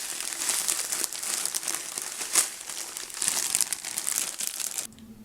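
A plastic bag of pre-seasoned breadcrumb stuffing mix crinkles and rustles close up for several seconds, an irregular, crackly handling sound ending abruptly.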